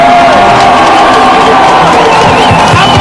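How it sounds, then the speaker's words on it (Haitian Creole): At a solidarity rally, a large crowd claps and cheers loudly and continuously, with whoops and shouts mixed in and voices blending into the din. "Applaudissez-les, s'il vous plaît."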